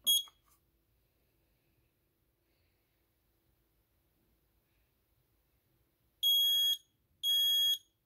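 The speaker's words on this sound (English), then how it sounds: "so let's go ahead and give this one a test." A Kidde i9010 10-year smoke alarm being tested: a faint click, a long quiet pause, then two loud, piercing electronic beeps close by, each about half a second long.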